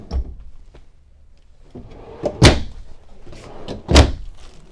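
Large drawers in a Winnebago Forza RV slide and shut in a series of sharp thuds, two of them loud and close, with quieter rolling and knocking sounds between them.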